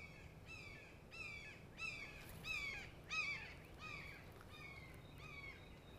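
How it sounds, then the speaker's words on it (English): An osprey calls outdoors in a rapid series of about nine sharp, piercing chirps, faint and somewhat distant over a steady background hiss. "That was an osprey that you heard going wah, wah."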